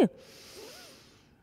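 After a brief thump, a long, soft breath drawn in through the nose fills the space during a belly-breathing exercise, close and steady with no talk.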